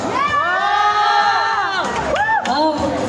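A festival crowd at an outdoor mall stage cheers and shouts in response to a performer, with loud, bright, overlapping yells that dip briefly before swelling again.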